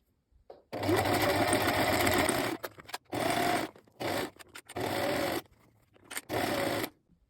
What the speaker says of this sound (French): vous allez piquer à 2 mm du bord et vous allez allonger votre point sur 4